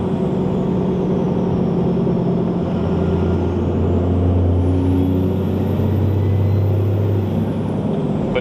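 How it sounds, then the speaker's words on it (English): A tuned truck with a 150 hp tune accelerates, its engine droning loud and steady while a rising turbo whistle climbs high above the rumble and holds near the end. "the turbo is definitely sounding really good"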